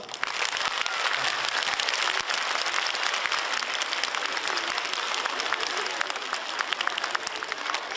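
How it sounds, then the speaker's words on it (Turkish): Children at an outdoor gathering with cartoon characters clap for their parents, a dense, steady wash of applause that holds evenly for the whole stretch with faint voices mixed in. "Siz anne babalarınızı şöyle güçlü bir alkış yapar mısınız?"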